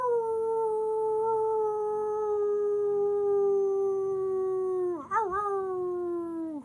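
A person imitates a wolf, giving one long sustained howl that slowly falls in pitch and ends in a wavering break, loud and close with nothing else heard.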